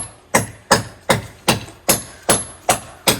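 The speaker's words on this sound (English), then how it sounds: "So get those out with the chisel" A chisel is struck in eight evenly spaced, sharp knocks, driving plugs out of an old timber frame deck. Each blow is close and crisp with a short ringing decay.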